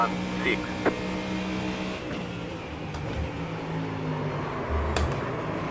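A GT3 race car engine in the iRacing simulator drones and revs steadily, its pitch rising and falling as it shifts, heard under a constant mechanical hum, with no clear talking.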